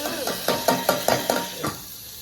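Tempering spices sizzle in hot oil as a spoon stirs them with a rhythmic series of scraping strokes, close and fairly loud, with a steady hiss underneath.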